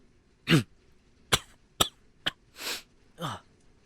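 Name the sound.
coughing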